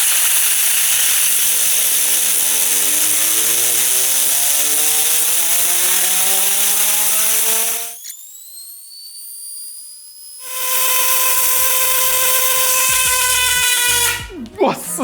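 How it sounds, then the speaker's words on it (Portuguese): A compressor air nozzle blows on a spinning 3D-printed tire, producing a loud whine that rises steadily in pitch, cuts out abruptly, then returns at high pitch before briefly stopping again. "vamos pegar o bico de soprar ali do compressor e vamos soprar aqui, ó, para nós ver qual barulho que dá"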